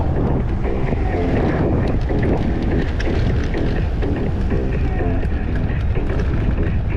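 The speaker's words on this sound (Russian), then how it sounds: "ветер, падла, встречный фигачит" Strong headwind buffets the microphone on a road trip through Crimea, a continuous loud low rumble with gusting roar, steady throughout and with no talking.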